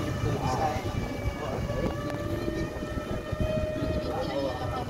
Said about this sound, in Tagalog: Ang lakas ng golf cart.